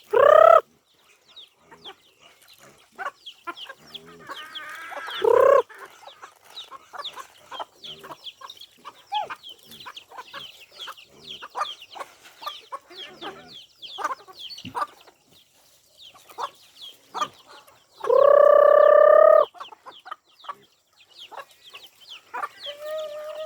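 Chickens cluck and chatter constantly while being caught, with several loud, drawn-out squawks and crowing bursts standing out near and clear.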